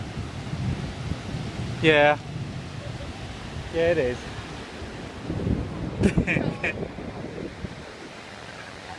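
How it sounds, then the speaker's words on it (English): Sea waves break on the shore at a beach in Valencia, with a steady broadband wash of surf and wind buffeting the microphone, while people talk briefly over the top. "The waves are quite impressive, I would say, looking at them."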